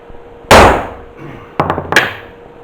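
A hammer whacks a cable crimping tool on a solar power cable at an off-grid finca in Spain: one sharp loud metallic bang, then a quicker cluster of two or three clanging strikes, close up.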